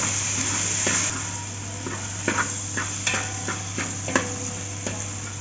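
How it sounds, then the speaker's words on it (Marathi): Tomatoes sautéing in a pan for a Maharashtrian vegetable chikulya dish, a soft steady sizzle with a few light scraping clicks of a spoon against the pan, quiet and close, no voices. "टोमॅटो पण चांगले परतून घ्यायचे"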